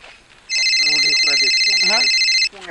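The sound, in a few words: phone ringing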